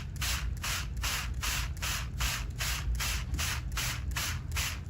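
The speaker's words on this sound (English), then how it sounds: "now I'm ready to spray it and watch the water move down." Water misted from a spray bottle onto a paper watershed model, a steady run of about ten rapid, evenly spaced hissing bursts, close and fairly loud with no talking.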